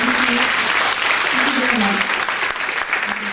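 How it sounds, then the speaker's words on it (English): Audience applauding at a cybercrime forum, steady dense clapping throughout with a few voices murmuring underneath. "Let's give a round of applause"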